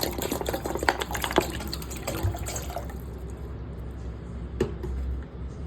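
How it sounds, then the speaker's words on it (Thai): A liter of water is poured into a pot for Thai tom yum with tilapia, a soft, continuous splashing trickle at close range, fairly quiet, with a few brief clinks. "เทน้ำไปเลย 1 ลิตร"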